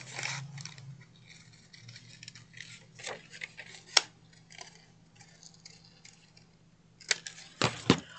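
Scissors cutting craft material, with a series of quiet irregular snips and clicks and a few sharper cuts, close and faint with no talk.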